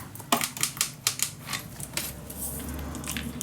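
Scissors snip a piece of paper for a Halloween mini album, with about eight quick, crisp cuts in a rapid run, then a softer rustle as the cutting stops.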